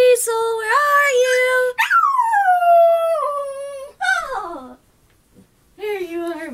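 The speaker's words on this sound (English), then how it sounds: "And this is my dog, Diesel!" A dog howls loudly and close, its long wavering cries sliding up and down in pitch and breaking into whimpering yips before a short pause and another howl.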